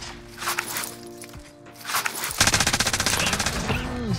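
EM2 rifle firing in Call of Duty Warzone, a rapid burst of loud, evenly spaced shots in the last two seconds after quieter game ambience and footsteps.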